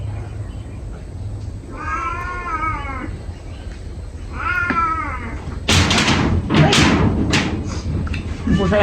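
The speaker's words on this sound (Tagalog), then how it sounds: "Yung pusa yung malaki." A big cat meows twice in drawn-out cries, then heavy thumps and knocks follow close by, louder than the meows, with no talk over them.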